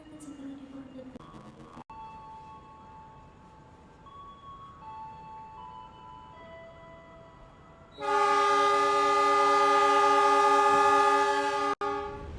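The Gajayana executive train pulls away from a station where the Malang and Surabaya lines meet, with faint rolling tones at first, then a loud, sustained horn blast near the end, under a little background talk.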